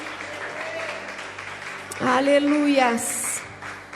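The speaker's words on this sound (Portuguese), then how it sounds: "Aplauda aí ao Senhor bem forte," A church congregation claps together in a sustained burst, with scattered voices calling out and a raised shout rising over the clapping midway.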